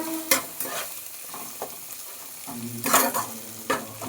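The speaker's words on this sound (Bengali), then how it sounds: "দেখো আরেকটুখানি ভেজে নিচ্ছি পেঁয়াজটা সামান্য একটু লাল লাল মতন হোক" Onions sizzle in a pan while being stirred, with a steady frying hiss broken by sharp scraping strokes at irregular intervals, heard up close.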